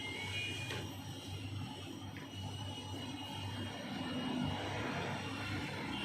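A laundry dryer runs on an off-grid solar inverter system, giving a steady, even mechanical hum with a constant low drone and no pauses.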